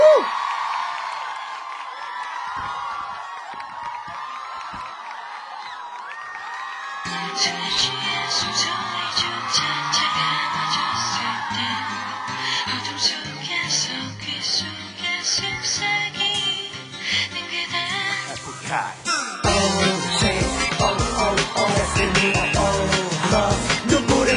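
Concert audience at a live appearance, a crowd cheering, whooping and clapping under loud amplified music and a host's voice, with the noise swelling after the introduction.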